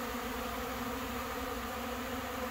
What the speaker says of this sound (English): And it's so many bees on there so fast,